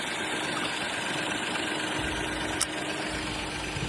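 The 3.0-litre petrol engine of a 2018 Hyundai Grandeur HG with about 190,000 km idles steadily under the open hood, a close, even hum with one brief tick partway through.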